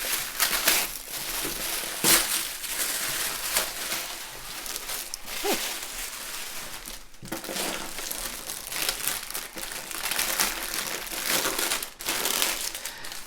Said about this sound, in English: I hate to just tear it, but there's not really anything else to be done with tissue paper.